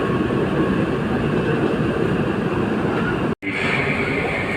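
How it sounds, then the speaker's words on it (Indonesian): Steady, loud rumble of a KRL commuter train rolling along the rails as it arrives at a station platform on the Yogyakarta–Solo line, with a brief dropout near the end before the noise resumes. "Kereta dipersiapkan masuk jalur 2."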